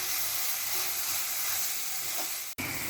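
Ginger garlic paste sautés in a pan for prawn gravy, giving a steady, close, even sizzle that drops out briefly just before the end.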